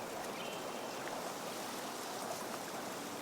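A river flowing past a gravel bar, a soft, steady rushing wash with no distinct splashes, faint and continuous.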